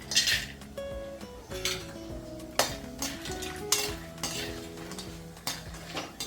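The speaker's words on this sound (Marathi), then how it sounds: "तीस ग्रॅम चक्रीफूल तळून घेते" Dry whole spices, star anise among them, are lightly fried and stirred in a pan, giving a soft sizzle with repeated clinks and scrapes of a utensil against metal. Music plays underneath.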